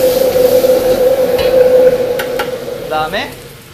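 Sugar melts and sizzles in a wok on a Chinese range for pork stir-fry, a loud steady hiss with a faint high tone, fading near the end after a brief scrape.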